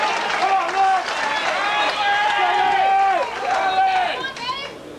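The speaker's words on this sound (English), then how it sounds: "It's the loudest screaming we've heard all summer, that's for sure." A bowling crowd at the 1982 PBA Seniors Championship screams and cheers loudly for one player during a 4-pin match in the 8th frame, many voices rising and falling in sustained waves of shouting.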